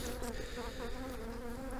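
Honey bees buzzing steadily at a strong hive in early spring, a dense, close, continuous drone with no pauses.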